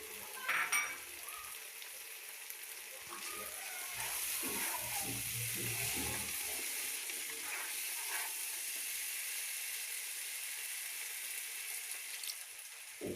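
Masala for chicken biryani sautéing in a pan after a spice paste goes in: a steady, soft sizzle runs throughout, with occasional scraping and stirring clatter of a utensil, and no talk.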